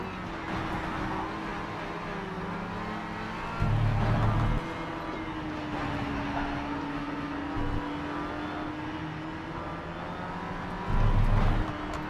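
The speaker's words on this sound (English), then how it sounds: "And the engine sounds so faint, it's really hard to tell what you're actually doing." Race car engine in the video game Project Cars 3 during a lap, a steady faint drone with low whir and brief louder revving swells, no talk over it.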